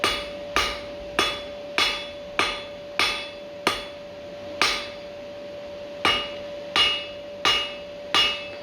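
Hammer blows ring out as a blacksmith spreads hot steel into a leaf shape for a forged key ring, about a dozen sharp metallic strikes at a steady, slightly uneven pace, close and clear with a constant ringing tone between them.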